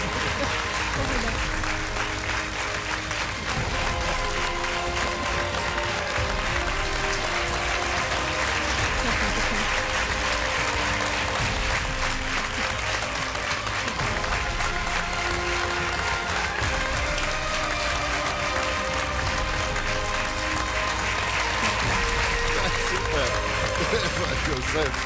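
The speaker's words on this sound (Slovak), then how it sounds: "tento potlesk vyzeral aj na druhé volebné obdobie" Dense, continuous audience applause fills a comedy show for a president, with voices talking and reacting underneath the clapping throughout.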